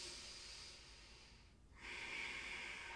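Steady breathing during a yoga flow, a soft continuous airy hiss that dips briefly then swells into a stronger exhale, close and alone with no talk.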